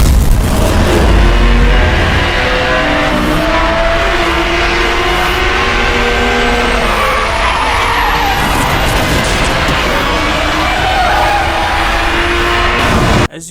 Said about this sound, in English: the turbo boost also makes an insane sound when activated